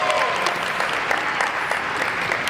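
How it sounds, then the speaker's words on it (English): Guests at the Beyond the Mask Gala 2023 applaud a trailblazer honoree's Harvard graduate degree, a full, even round of clapping from a sizeable crowd that carries through the whole stretch. "Can we get a hand clap for that?"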